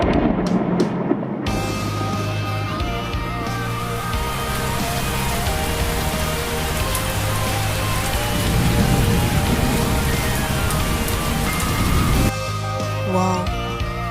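Rain pours down onto surfaces in a steady, dense patter, close and loud throughout, with a faint low rumble underneath and a few brief knocks at the start.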